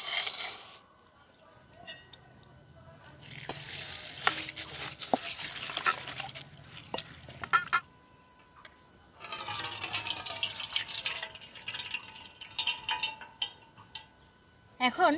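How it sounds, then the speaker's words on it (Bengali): Raw flattened rice (chira) rinsed in a bowl of water in a kitchen: bursts of splashing and trickling water with small drips, pausing and resuming, close and fairly soft. "প্রথমে এই চিড়েটাকে আমি একটু ধুয়ে নেব।"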